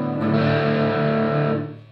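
A loud, heavily distorted electric guitar chord through a Behringer HD300 Heavy Distortion pedal rings out thick and buzzing, sustained for over a second before fading away.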